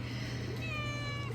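A cat gives a single short meow over a low background hum and murmur, fairly faint and brief.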